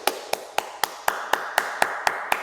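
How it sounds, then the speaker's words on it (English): A single person clapping hands in a slow, even rhythm, about ten sharp, close claps spaced roughly a quarter second apart over a faint background hiss. "bro, I'm going to applaud you right now."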